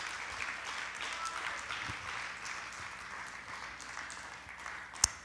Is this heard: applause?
yes